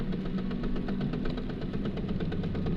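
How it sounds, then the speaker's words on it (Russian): A VAZ 2110 car engine runs under throttle with a knocking fault, a close, continuous low rumble carrying a fast, even, rhythmic knock throughout. "Смотрите, сейчас газ даю"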